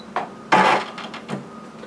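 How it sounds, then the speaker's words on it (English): A Brother SE400 embroidery sewing machine is switched on. Soft clicks lead into a short burst of mechanical whirring, followed by a few fainter clunks as it settles. "So we'll turn the machine on."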